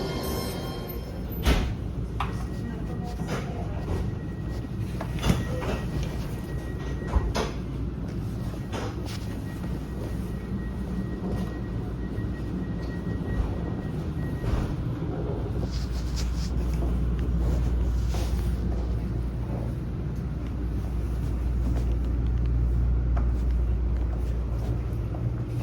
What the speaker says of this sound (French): Nous, on se retrouve directement à Chalzeul, à l'autre bout de la ligne, pour un petit tour dans l'intérieur du tramway.